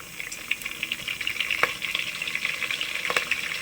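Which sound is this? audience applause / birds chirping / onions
onions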